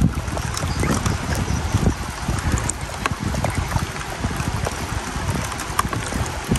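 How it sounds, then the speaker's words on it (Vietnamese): Strong wind roaring over open rice fields in the flood season, loud steady buffeting against the microphone, with no voices. "Quá trời gió à."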